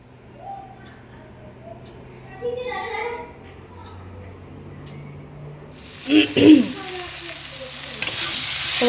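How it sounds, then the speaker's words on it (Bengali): Spices, onion and tomato being fried and stirred in a home kitchen, with soft stirring under intermittent talk and a voice, then a loud sizzle rising toward the end. "সব মশলাগুলো দিয়ে কষাচ্ছি সব মশলা দিইনি পেঁয়াজ আর টমেটো দিয়েছি"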